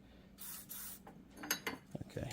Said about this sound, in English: give everything a good spray of WD-40